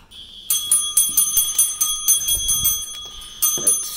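A house fire alarm bell rings during a test, loud rapid clanging strikes in quick repeated bursts with brief gaps, close and continuous for most of the span.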